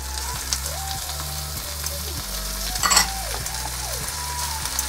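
Chopped onion and pre-boiled chicken fry in hot white oil, giving a moderate, continuous sizzle with a brief louder burst of crackling near the middle and some faint tonal sounds in the background.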